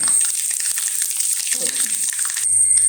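Mustard seeds crackle and splutter in hot sesame oil for mango pickle, a dense continuous sizzle with sharp popping bursts throughout, close and fairly loud, a brief quieter clink of stirring near the end.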